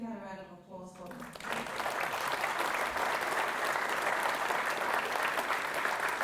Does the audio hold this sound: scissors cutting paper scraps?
no